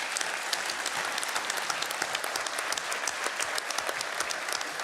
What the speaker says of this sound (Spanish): pedirle un fuerte aplauso para su gestión